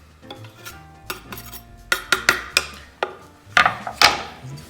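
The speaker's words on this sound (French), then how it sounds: "Il faut un peu agiter pour pas que ça colle au fond." Metal utensil scraping and clinking in a pot of cheese fondue with garlic, a series of sharp knocks and scrapes that quicken and grow louder toward the end, with no talk.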